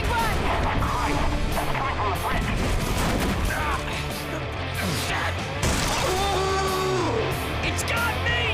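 Bombing-run explosions in a zombie video game: loud, continuous blasts and crashing booms layered with gunfire, dense and close, with voices shouting amid the chaos.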